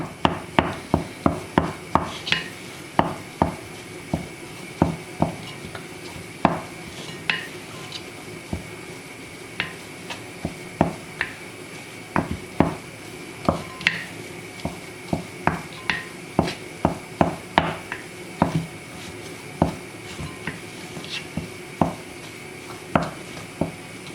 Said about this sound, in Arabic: غادا نخلط هاد الخليط مزيان